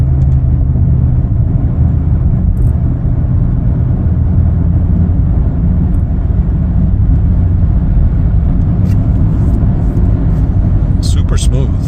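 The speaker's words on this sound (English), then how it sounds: "ready to go for a test drive here" A steady, loud low rumble of engine and road noise fills the cabin of a 2021 Nissan Sentra SV on a test drive, continuous throughout, with a voice present over it.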